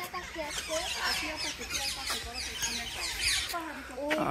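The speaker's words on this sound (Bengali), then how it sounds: "এখানে সব হচ্ছে টিয়া পাখি, বিভিন্ন কালারের" Parrots of various colours in a safari park aviary give repeated squawks and chattering calls, overlapping and fairly close, with people talking faintly in the background.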